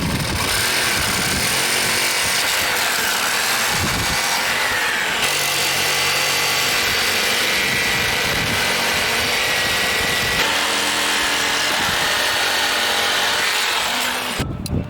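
A power tool drives a bolt into a wooden fence post near its cement footing, a loud continuous whirring with grinding changes in pitch over about fifteen seconds, heard close up.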